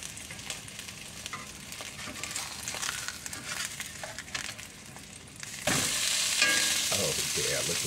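Onion and thick-cut bologna frying in a pan, a steady crackling sizzle with scraping and stirring of a spatula, growing louder and brighter near the end as the food is moved around.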